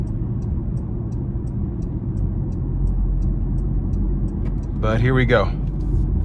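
Engine note of a 2024 Porsche Macan T rising as it accelerates, a broad steady rumble heard from the cabin while driving, with someone speaking briefly near the end.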